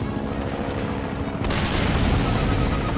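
A bazooka blast in Metal Gear Solid V: Ground Zeroes bursts out partway through, a sudden broadband boom that leaves a loud, dense rumble hanging after it.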